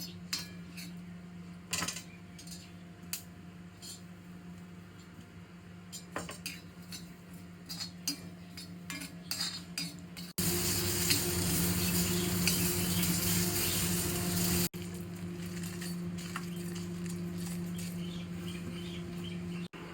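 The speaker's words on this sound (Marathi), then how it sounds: "आता मिरच्या भाजून घ्यायच्या" Chillies dry-roasting in a pan for a Malvani-style oyster curry: scattered clinks of metal utensils over a steady low hum, then a louder burst of sizzling for several seconds before it settles back.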